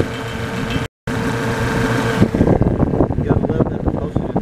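Antique Frigidaire refrigerator compressor induction motor starting up, a steady hum that drops out for a split second then resumes, followed by rougher rumbling and rattling as the motor comes up to speed.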